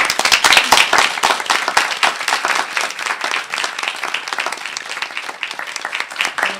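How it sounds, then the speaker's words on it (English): An audience at a school board of education meeting applauds a student competition winner: dense, steady clapping from a roomful of people, loud and close, sustained without a break and with no talk over it. "we're going to applaud Connor Sterling for coming out on top here"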